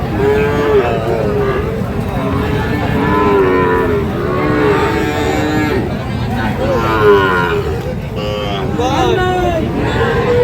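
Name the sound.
Sahiwal breed calves and cattle at a livestock market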